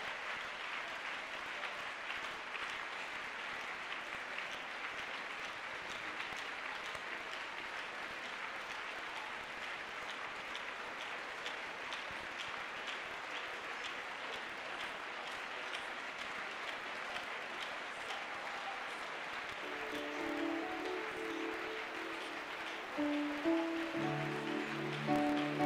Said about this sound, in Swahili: Clappe les mains et commence à prier.